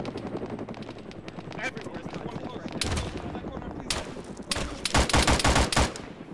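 Gunfire in a video game, with bursts of machine-gun-like shots growing louder and denser toward the end, mixed with general battle noise and people talking over it.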